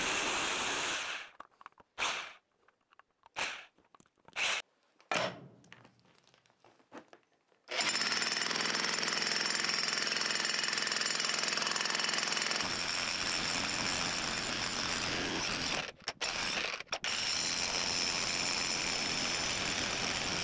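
A jackhammer breaks solid rock while digging a hole at a far west Texas off-grid homestead, starting in short loud bursts and then hammering steadily for a long stretch, with a couple of brief pauses near the end.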